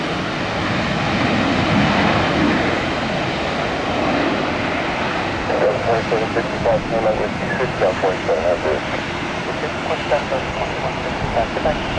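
A Delta jet airliner roars steadily nearby at Tampa airport, a broad rushing engine noise that holds through, with some faint voices or radio chatter partway through.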